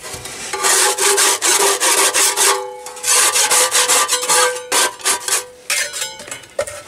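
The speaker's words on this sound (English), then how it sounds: "Let me scrape this off first, or I will have a grease fire." Metal scraper dragged firmly over the greasy grates of a Weber SmokeFire pellet grill outdoors, a loud, close run of repeated rasping strokes with short pauses between them and no talking.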